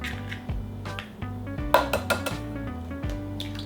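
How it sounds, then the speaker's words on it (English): Two eggs are cracked into a mixing bowl, giving close, fairly loud clinks and taps of shell against the bowl, several spaced knocks with light dish rattles between them and no talk. "we're gonna begin by adding 2 eggs to a mixing bowl"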